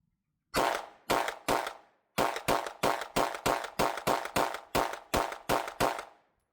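A Canik TTI Combat pistol fitted with three inline ports fires a quick string of sharp, loud shots close by: three rapid cracks, a brief pause, then about a dozen more in a steady, even rhythm, with no talking.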